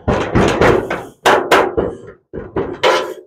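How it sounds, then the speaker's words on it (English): An old large screwdriver tapped by hand against a car body panel groove during home bodywork, giving a series of loud, close metallic knocks in an uneven rhythm with short pauses between hits. "I'm just using my hand and my old big screwdriver, and I'm just giving it a slight love tap just in that groove"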